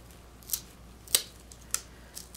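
Three sharp scissor snips cut craft material for a Dollar Tree Easter bunny wreath, each crisp and close, spaced about half a second apart, with a faint fourth snip near the end.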